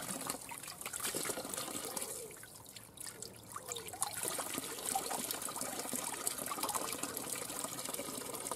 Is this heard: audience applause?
no